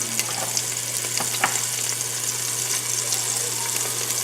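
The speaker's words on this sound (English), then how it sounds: "And we're going to stir this up." Garlic, green curry and chard stir-fried in a pan give a steady, close sizzle, with a few soft scrapes and clinks of the stirring utensil and no talking.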